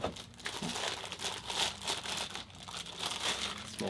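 A small plastic bag crinkles and rustles steadily, close and fairly loud, while a Pioneer MVH-X390BT short-chassis car radio is unboxed, with no talking.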